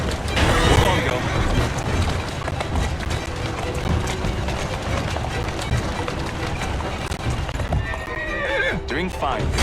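A horse in Assassin's Creed Syndicate clip-clops along at a brisk pace, its hoofbeats steady and close, with a loud neigh near the start and another whinny toward the end, while someone talks over it.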